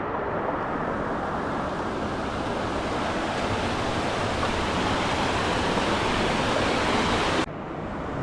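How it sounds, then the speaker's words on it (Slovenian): A waterfall pours into a narrow gorge with a loud, steady, broadband rush that fills the air without pause and drops away abruptly near the end. "Evo, tukaj pada še voda."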